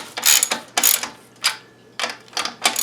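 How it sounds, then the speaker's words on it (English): A ratchet wrench with a 12 mm socket works on a 1980 Suzuki FZ50 during front shock installation, producing about five short bursts of rapid clicking separated by brief pauses, close and fairly loud, with no speech. "let's get our 12 mil wrench and socket"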